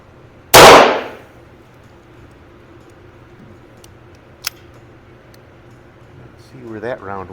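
One sharp, loud report from a 1926 Hartford Arm & Equipment Company single-shot .22 LR target pistol at close range, followed by quiet, a faint click, and a voice starting to speak at the end.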